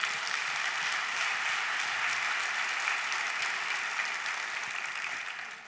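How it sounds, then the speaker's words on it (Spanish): A church congregation applauds the Lord during a sermon, steady dense clapping that holds at an even level throughout and fades slightly toward the end, with no speech over it. "Dale un aplauso al Señor."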